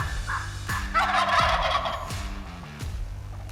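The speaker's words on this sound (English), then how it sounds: "I could hear another bird gobbling off in the distance" Several loud wild turkey gobbles ring out one after another, rattling and fairly close, with more gobbling overlapping in the background.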